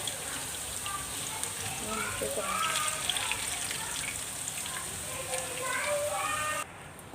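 Bitter gourd (karela) slices frying in hot oil in a home kitchen for aloo karela sabzi, a steady crackling sizzle with dense popping that cuts off abruptly near the end.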